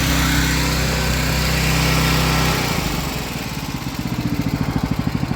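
A pressure-washing rig's small engine idles steadily at close range, then is shut off partway through and sputters down into slow, uneven chugging pulses as it winds to a stop; no one speaks.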